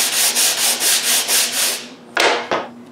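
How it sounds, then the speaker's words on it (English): Wood sanding on the inside faces of raised wooden panels for a shop chest of drawers, a steady back-and-forth rasp in about eight even strokes, then two sharper, louder scrubbing passes close by, with no talk. "First thing to do is sand the inside of the panels."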